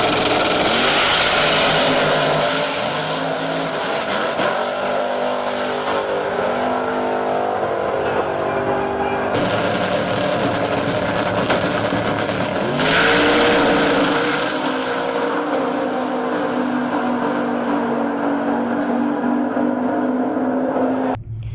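A drag racing car on a drag strip during Sick Week makes a full pass, its loud engine roaring steadily with shifts in pitch and a sudden change in tone partway through, heard alone without speech.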